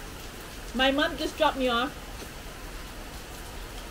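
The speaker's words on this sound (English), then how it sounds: "you can probably see in here that it's like raining cats and dogs" Heavy rain pours outside as a steady, even hiss that runs throughout, while a person speaks briefly over it near the start.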